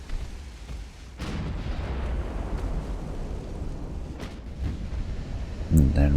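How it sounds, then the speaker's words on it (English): Warship guns firing in the naval battle game Ultimate Admiral: Dreadnoughts: a sustained, rumbling roar of booming salvos with a few sharper blasts, loud and continuous over several seconds. "So let's get all guns engaged."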